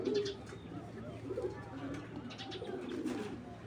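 Racing pigeons coo in low, throaty, repeated phrases close by, with faint chirps and background noise around them.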